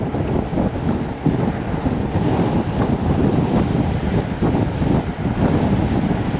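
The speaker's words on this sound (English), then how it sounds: "Oh, it's windy." Steady wind buffets a microphone outdoors near a casino, a continuous low rumble filling the whole clip with no voices.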